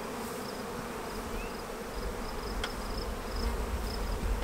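Honey bees buzz steadily inside a hive with no laying queen, a dense close drone of many wings with occasional higher passes, no talk.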